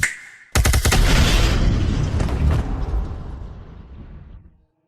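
A sudden, loud explosion from an animated action series bursts in after a brief quieter lead-in, then rumbles and crackles as it slowly fades away over several seconds.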